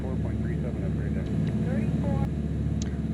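Steady light aircraft engine drone from the X-Plane 12 flight simulator, cruising on autopilot on a VFR flight from Salinas to Oakland, loud and continuous with someone talking over it throughout.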